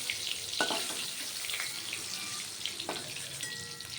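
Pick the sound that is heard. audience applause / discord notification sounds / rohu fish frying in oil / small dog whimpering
rohu fish frying in oil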